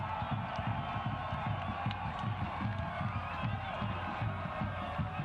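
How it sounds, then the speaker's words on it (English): A crowd of soccer spectators at the Phoenix Rising Soccer Complex, during a Phoenix Rising FC match against Sacramento Republic FC, makes a steady, broad roar with rhythmic, pulsing chant-like swells. Scattered applause and cheering mix in throughout. "a big round of applause from the crowd here at the Phoenix Rising Soccer Complex"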